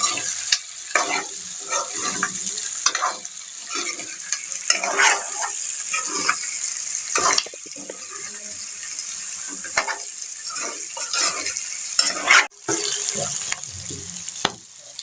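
Chicken and gizzard being stir-fried and mixed in a pan, a constant loud sizzle with repeated scraping and tossing strokes from the spatula, close up, with a brief sharp clatter near the end.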